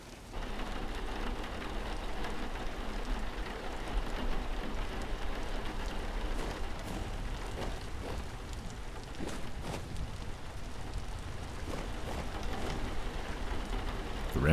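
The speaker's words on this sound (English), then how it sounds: "The rain sounds crazy." Steady, dense rainfall in the video game Vintage Story hisses continuously throughout, an even wash of noise with no voices over it.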